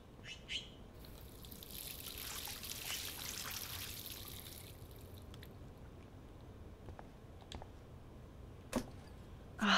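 Water from a sink tap in Life Is Strange pours and splashes steadily for several seconds, then fades to quiet room tone with a few faint clicks and a brief sharper sound near the end; no one talks.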